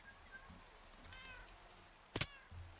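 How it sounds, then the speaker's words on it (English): Several cats meow in a room, a few soft short mews scattered early, then one loud close meow near the end, with quiet background noise between and no speech. "The cats are annoying."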